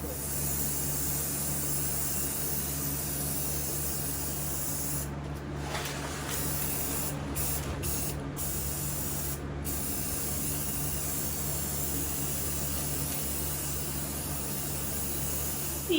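Paint hisses steadily from a spray can onto a thrifted wooden coat rack for a farmhouse-style makeover, a close, continuous aerosol spray with only a few brief pauses.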